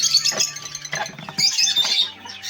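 Exotic birds at a bird farm in Tripura chirp and tweet in rapid overlapping bursts, with bright high trills and squeaky calls from several birds nearby, loud and continuous with no talking.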